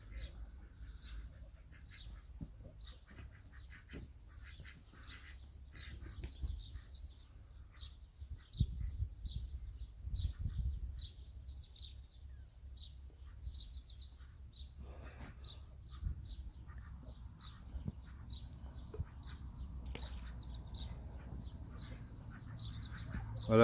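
Indian runner ducks in a vegetable garden give a steady series of short, faint quacks, with low rustling and handling noise underneath and a brief soft flutter of wings.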